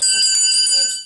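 An old school bell at a pioneer village museum in Rockport, Indiana, rings close and loud with a bright sustained metallic tone that holds for about a second before fading slightly.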